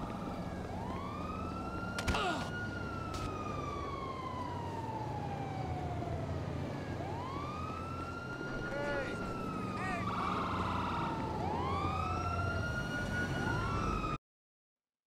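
Police sirens wail in the GTA 5 video game as officers chase Trevor, several rising and falling siren sweeps overlapping continuously over engine rumble and traffic noise, loud and sustained throughout.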